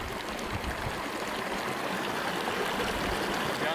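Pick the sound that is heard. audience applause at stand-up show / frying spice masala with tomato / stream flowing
stream flowing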